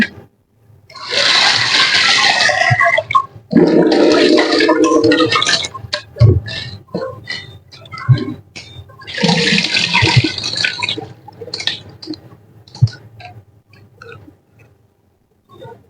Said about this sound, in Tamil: இதுல முதல் பருப்பை கழுவி எடுத்துக்கலாம்